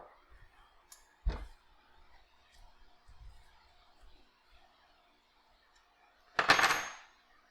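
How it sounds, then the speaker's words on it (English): A 7/16 wrench removing the fill nipple from a Harley Davidson rear air shock gives a sharp metallic clack early on and a louder burst of clinking near the end, with faint handling noises between. "We're going to take this nipple off."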